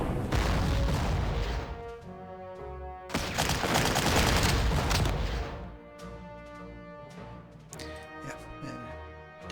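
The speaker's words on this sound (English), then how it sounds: "Double artillery." Artillery booms and gunfire crackle through a WWII strategy video game battle, with loud bursts of explosions, a dense barrage in the middle and scattered shots trailing off afterward.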